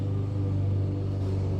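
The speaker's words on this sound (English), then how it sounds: "Sorry for the lawnmower in the background." A lawnmower runs steadily with a low, continuous engine drone and rumble that stays even throughout, with no talk over it.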